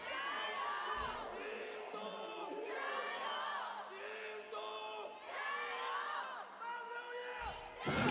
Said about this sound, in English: Crowds have done their yelling.